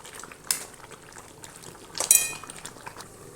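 A field bean curry with eggplant and drumstick simmers in a pan as a spoon stirs it. Two sharp clinks and scrapes of metal on the pan stand out over a quiet, low bubbling.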